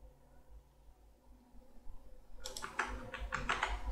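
Quick bursts of typing on a computer keyboard, close and fairly quiet, starting after a stretch of near silence with low room hum.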